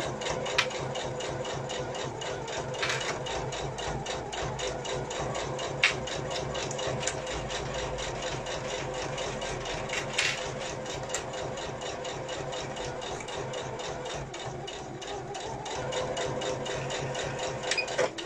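Sewing machine stitching piping, a fast, even mechanical rattle of the needle running steadily close by, with a few brief clicks and slight changes in pace, and no talking.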